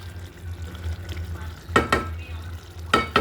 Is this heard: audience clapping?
no